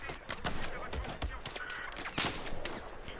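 Rapid gunfire from Battlefield 4 Final Stand, in the Hangar 21 map: several sharp shots in quick bursts over steady battle noise, with someone talking in between.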